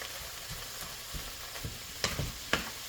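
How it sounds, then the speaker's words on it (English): Crumbled steak pieces cook in a pan for cheesesteak filling, a faint low sizzle with a few soft stirring taps and two sharper scrapes near the end. "Now we could finish cooking off the steak."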